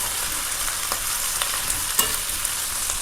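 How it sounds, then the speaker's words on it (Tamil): Pirandai (adamant creeper) sautés in hot oil with a steady, close sizzle and occasional soft crackles and stirring scrapes, and no voices. "நல்லா பிரண்டை வதங்கி நல்லா சுருண்டு வந்துடணும்."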